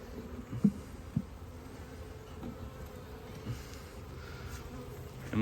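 Honey bees hum around a weaker colony opened in an apiary in late May, a faint steady buzz with a few soft knocks from the hive frames.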